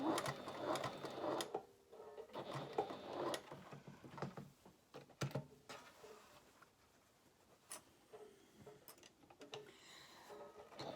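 Sewing machine stitching a fabric bag, with short bursts of rapid mechanical whirring and clicking separated by pauses and handling noises, quiet and close.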